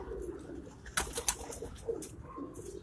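A flying teddy pigeon kept for rooftop flying gives soft, low cooing murmurs in the background, with a couple of sharp nearby clicks or taps partway through.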